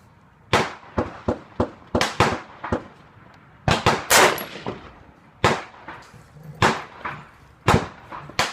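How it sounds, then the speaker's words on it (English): AR rifle gunshots ring out at a 100-yard outdoor shooting range, a dozen or so sharp, loud reports fired singly at an uneven pace, each with a short echoing tail. "Let's keep shooting."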